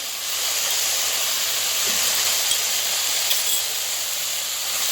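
Water is added to qeema frying in a pan, and a loud, steady steaming hiss and sizzle runs close and unbroken throughout.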